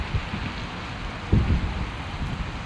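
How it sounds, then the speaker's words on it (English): Strong wind buffets a small DJI Mini drone in flight, a steady rushing roar with gusty low thumps against the microphone. The wind is loud and continuous, peaking in one sharper gust midway. "Strong wind."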